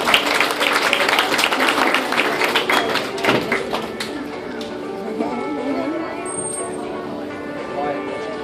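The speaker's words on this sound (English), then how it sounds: "Let's give her a big round of applause." Crowd at a Florida dolphin show applauds a young volunteer, a dense burst of clapping that is strongest at first and thins out over several seconds, with murmuring voices and scattered thuds underneath.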